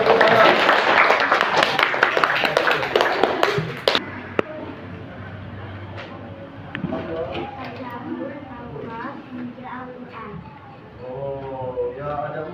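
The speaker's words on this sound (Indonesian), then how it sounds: "Ayo tepuk tangan." Classroom applause for a student group presenting, with dense clapping from many hands for the first four seconds before it stops and a teacher talks.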